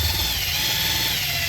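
A power tool buffs aluminum, a steady, loud, high whirring drone held without a break, close up.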